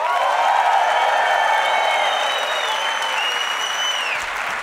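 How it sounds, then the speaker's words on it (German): Loud, sustained applause from a concert audience at a live Swiss German comedy show, with scattered cheers and whistles over dense clapping that tapers slightly toward the end. "Wer es 2 wird,"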